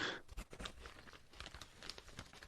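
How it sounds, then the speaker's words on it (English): Crisp crunching bites into a pizza roll, a quick series of close, sharp crackles and tearing sounds at low volume with no talking. "That's a good crunch."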